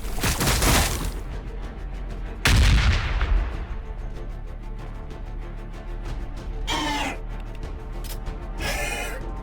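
Gunfire and heavy blasts in the Warhammer 40,000: Battlesector strategy game, with a loud boom around the middle and a dense run of rapid shots, plus brief whooshing bursts later on.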